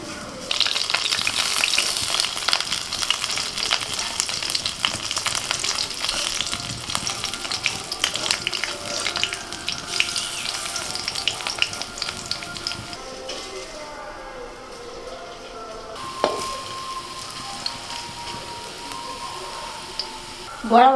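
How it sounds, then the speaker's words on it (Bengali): Jute leaf fritters frying gently in mustard oil over low heat, a steady dense crackling sizzle close by throughout, easing slightly near the end with a brief clink. "পাট শাকের বড়াগুলো ভাজবো গো"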